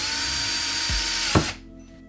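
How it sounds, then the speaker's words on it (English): Power drill boring holes into a headphone enclosure, a steady loud whirring drone that rises sharply near the end before cutting off abruptly, then a brief mechanical clunk. "take this out before I start drilling into this and then breaking it"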